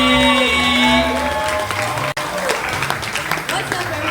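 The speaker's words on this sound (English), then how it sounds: "I need y'all to start clapping right now and give it up for my sister and your sister." Audience at a hip-hop show in a Los Angeles café clapping and cheering for a performer, a dense steady wash of applause with whoops, a short break, then continued clapping and crowd noise.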